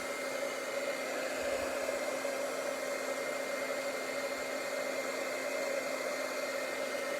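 An electric heat tool blows steadily to melt embossing powder across a whole stamped sheet for paper crafting, a constant close whirring hiss with an even hum and no talking.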